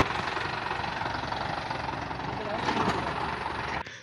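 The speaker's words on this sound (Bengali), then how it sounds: "দেখতেই পাচ্ছেন ইঞ্জিনের সাউন্ড খুব সুন্দর আছে, নতুনের মতন, ফ্রেশ কন্ডিশন।" A JAC 14-foot truck in fresh, like-new condition idles with a steady, even diesel rumble and a mild knock, the engine close and loud throughout before a brief thump near the end.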